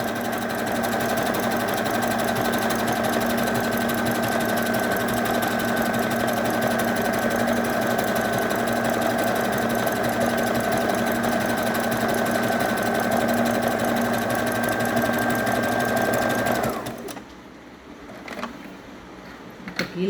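An electric sewing machine runs a continuous zigzag stitch on an umbrella gown, a loud, steady whirring drone up close that holds for most of the stretch before stopping abruptly, leaving faint handling clicks.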